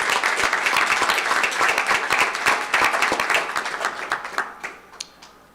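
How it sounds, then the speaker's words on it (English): A large audience at an AOA/GHHS medical honor society induction ceremony in Chicago applauds warmly, thick sustained clapping that thins into a few scattered, separate claps before fading out. "So give him a round of applause."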